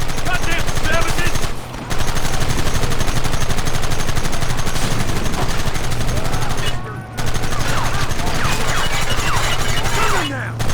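Rapid gunfire rattles almost continuously in the Red Dead Redemption video game, loud and dense with brief pauses, while characters shout over it.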